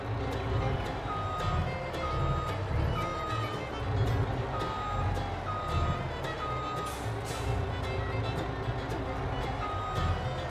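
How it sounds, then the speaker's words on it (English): An Isuzu truck backs up to a loading ramp in a game, its steady reversing beeps repeating at an even pace over a low idling engine rumble and faint background noise. "We will prepare each truck at the ramp to load the cars."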